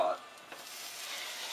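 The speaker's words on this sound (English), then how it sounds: "they'll spin easier and you can fry them on multiple sides" Mitarashi dango balls frying in a hot pan, a faint continuous sizzle after a brief voice at the start.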